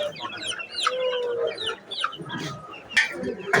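Desi chickens at a busy market in Jessore's Bara Bazar cluck and squawk in irregular bursts, several birds close by and calling over one another.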